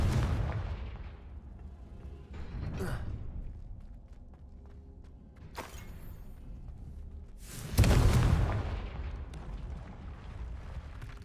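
Confringo explosive spell in Hogwarts Legacy, a few booming blasts with whooshing bursts, the loudest near the end, over low rumbling game sounds without speech.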